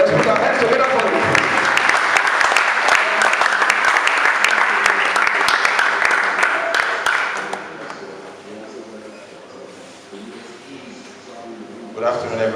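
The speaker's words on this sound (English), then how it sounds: "Please, let's put our hands together for him." Audience applause at an event after an opening speech, a dense, loud wash of clapping that holds steady for about eight seconds before fading into quieter room noise, with a brief swell again near the end.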